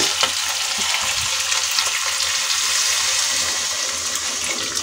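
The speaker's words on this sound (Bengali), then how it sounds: "এবারে আর একটু অল্প করে পানি দিয়ে আবার কষিয়ে দিব।" Fish being cooked down in a pan sizzles loudly as a little water is poured in, a dense hissing crackle with a brief splash, close up and without talk.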